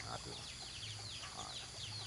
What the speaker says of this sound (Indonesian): Teman-teman lihat ayam, mereka aja sibuk ya sudah pagi-pagi gini.